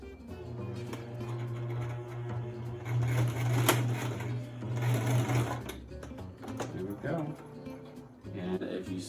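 A sewing machine stitches a homemade pillowcase, its motor humming in a steady, close run that rises and pauses in short bursts, with a person talking over it.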